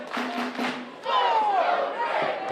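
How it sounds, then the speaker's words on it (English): Wrestling crowd at a match cheering and shouting in a sustained, dense roar that swells louder partway through, with a rising whistle-like cry over the noise. "The crowd tried to rally around their champion"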